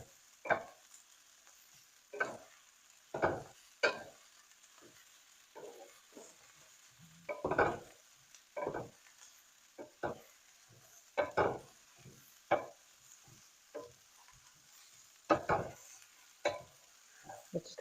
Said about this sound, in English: I just want to mix this up and heat the green beans back up again